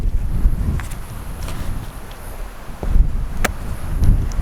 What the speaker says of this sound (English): As you can tell, it's windy.